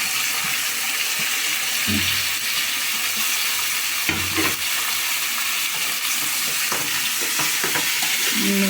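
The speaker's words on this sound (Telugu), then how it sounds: "వేగుతుంది ఇవ్వండి ఇప్పుడు ఇవన్నీ వేసేసుకోవాలి టమాటా ముక్కలు దోసకాయ ముక్కలు ములక్కాయ ముక్కలు" Tomato, cucumber and drumstick pieces frying in a pan for an egg curry, a loud continuous sizzle with a few stirring scrapes, no speech.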